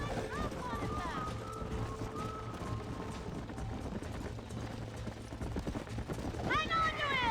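Hoofbeats of horses galloping in Red Dead Redemption during a roping chase, steady clip-clop under shouted talk and horse whinnies, with music running underneath.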